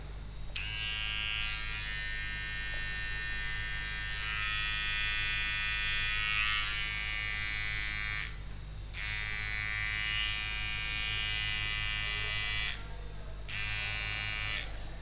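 Geemy GM-6050 electric hair trimmer runs with a steady high-pitched motor buzz, close and clear, switching off briefly around the middle and again near the end before resuming, no talk.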